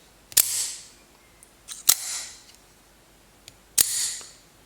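An automatic knife fires its blade three times, each one a sharp, loud snap with a brief metallic ring, separated by pauses.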